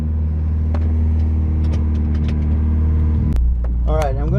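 Toyota Supra fitted with an Eclipse exhaust cruising on a quick drive, a loud steady low engine drone close by, then a sharp burst and a rising rev near the end.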